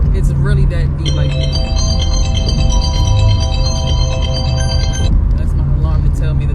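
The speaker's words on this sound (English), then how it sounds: "That's my alarm to tell me that the workday has started." Phone alarm marking the start of a workday, heard inside a car on the road: a looping electronic melodic ringtone chimes for about five seconds, mid-loud, over road noise and a low engine hum, with a voice talking over it.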